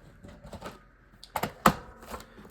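A paper trimmer slices excess yellow paper from a nautical scrapbook layout, heard as a few close, sharp clicking and sliding strokes bunched together midway through, with quiet handling rustle around them.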